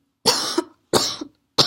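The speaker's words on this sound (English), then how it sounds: "Sorry about the coughing." Three sharp, loud coughs from a single person, spaced about half a second to a second apart, each a short harsh burst with nothing else in between.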